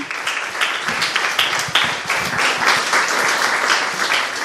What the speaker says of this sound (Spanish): Por primera vez, un aplauso.